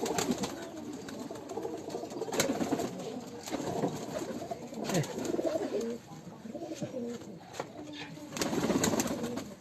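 Pigeons kept in a loft coo continuously, several birds overlapping in a dense, throaty murmur at close range with rhythmic swells throughout.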